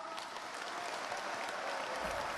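Steady applause from a large audience at a national event, fairly distant and even, without a break for the whole stretch.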